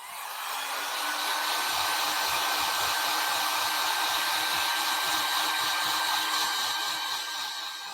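A heat gun blows hot air continuously with a loud, steady whoosh and a high whine, close up and uninterrupted for several seconds.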